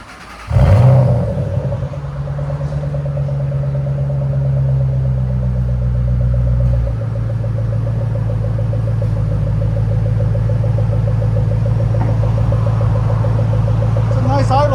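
A 2009 Ford Mustang Shelby GT500 with a supercharged 5.4L V8 and Black Widow Neighborhater exhaust starts up and settles into a loud, deep, steady idle, with a rumbling drone close by and people talking faintly over it.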